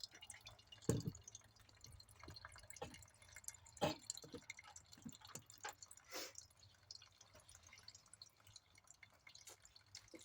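Fuel drains from a motorcycle PWK carburetor in sparse, uneven drips and small splashes, close by and fairly quiet, with a few sharper drops standing out over a soft background.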